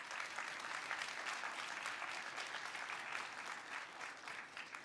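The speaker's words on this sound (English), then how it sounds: "Applause." Applause from the audience at a Pinterest marketing masterclass, an even, sustained patter of many people clapping, soft and somewhat distant, with no talking over it.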